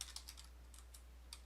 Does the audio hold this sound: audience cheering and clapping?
no